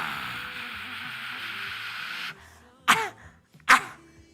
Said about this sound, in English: Sorry, I didn't mean to cough in your face.